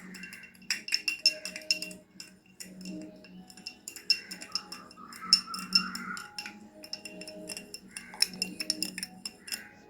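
Milk juice drink with kaskas (poppy seeds) stirred in a glass, a spoon clinking rapidly and repeatedly against the sides in bursts of bright taps, close and clear with no talking.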